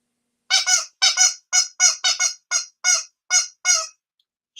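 A goose honks about ten times in quick, irregular bursts, loud and close, with brief silences between calls and nothing else in the background.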